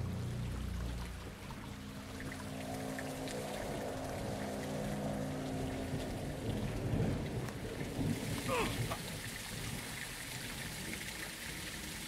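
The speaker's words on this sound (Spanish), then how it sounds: "Está lloviendo a cántaros." Heavy rain pours down in a Call of Duty: Modern Warfare 2 game scene, a continuous hiss of downpour with low rumbling underneath and a brief sharper splash near the end.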